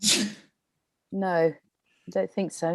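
A person sneezes sharply once at the start, loud and close, during an evening online talk; after a pause, someone speaks briefly.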